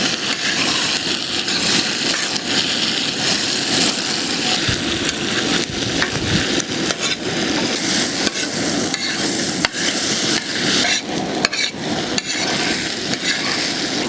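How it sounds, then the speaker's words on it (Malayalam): Chopped tomato fries in a hot pan of masala for a giant clam roast, stirred continuously. The sizzle is loud and steady, with scraping stir strokes throughout and no talk. "ഇനി നമ്മുടെ അരിഞ്ഞു വെച്ച തക്കാളി ഇതിലേക്ക് ഇട്ട് കൊടുക്കാം."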